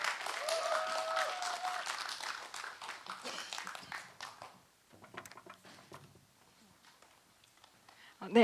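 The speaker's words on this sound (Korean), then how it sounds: "박수 보내주시기 바라겠습니다." An audience at a youth policy festival in Yeonggwang County, Korea, claps loudly for a presenter, the applause tapering off after a few seconds into quieter room sounds with a voice underneath.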